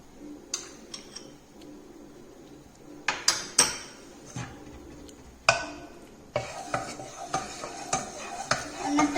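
Ghee being stirred with a spoon in a pan over a low gas flame, scattered sharp metallic taps and scrapes against the pan at an irregular pace, with a faint sizzle beneath and no talking.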